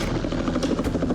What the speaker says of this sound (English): we just had seconds to get in the helicopter and take off again